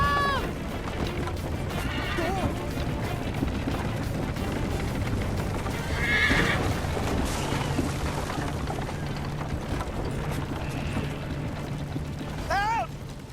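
Horse neighing and galloping in the video game Assassin's Creed 3 Liberation, with a short whinny rising over busy clattering game sounds, running hooves and mechanical noise, no talk.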